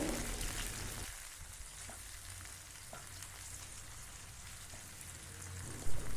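Ginger and tamarind sauté in a pan, giving a constant hissing sizzle at moderate volume with a few faint ticks and a brief louder clatter near the end.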